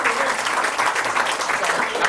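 Steady crowd applause fills the room for a 75-year-old man at a Catholic Fathers Club event, a dense, continuous clapping with no gaps or voices on top.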